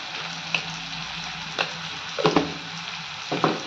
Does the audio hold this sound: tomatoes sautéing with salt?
yes